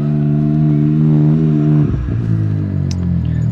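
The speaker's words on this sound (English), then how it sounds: "Car coming in, we'll just wait for a second." A car passes by outdoors, its steady engine hum and tire roar rising and then easing off as it goes by, with no talking.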